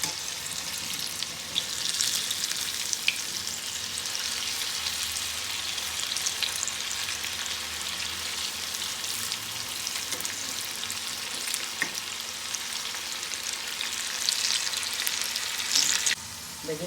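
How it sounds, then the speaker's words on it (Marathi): Moong dal pakodas that have just been flipped crackle and sizzle steadily in hot frying oil, a dense, continuous close-up hiss with faint bubbling throughout. "भजी शेकले एक साईडने, आता पलटी मारते थोडंसं।"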